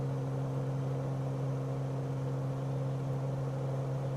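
A light aircraft engine drones in a flight simulator game, a steady, loud propeller hum with a strong constant low tone and airy wash, unchanging throughout with no voices.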